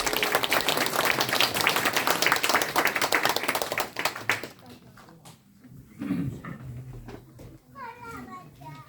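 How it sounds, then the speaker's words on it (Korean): A church congregation at an Easter union worship service applauds to welcome the pastor, with loud dense clapping for about four seconds that then fades into quieter room sounds and voices. "우리 큰 박수로 목사님 모시겠습니다."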